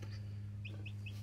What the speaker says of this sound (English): So, little happy chicken noises. Cheep, cheep, cheep, cheep.